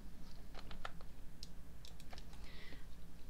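Keyboard keys tapped in a quick irregular run during spreadsheet formula entry, close and clear over a steady low hum, with no talking.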